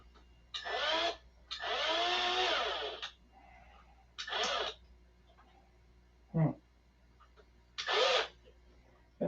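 A cheap $20 electric drill runs in short whirring bursts of a second or two, with one longer run, separated by quiet pauses, close by and moderately loud, with no voice over it.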